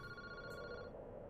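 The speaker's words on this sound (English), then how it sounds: "that phone is ringing" A telephone rings in the Paranormasight video game, giving one steady electronic ring tone that holds for under a second and then fades out, with no voices over it.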